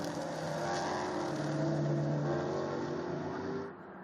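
A Touring-class race car at the 2016 SCCA Runoffs at Mid-Ohio gets back on the power, its engine note droning and rising steadily at moderate distance before dropping away at the end.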